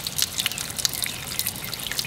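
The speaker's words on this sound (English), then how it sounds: "you pour it hard right now, and then stop before the gravel gets there" Water holding small fish pours from a jug with a gravel bed below, producing steady splashing and bright dribbling close up, with no voices.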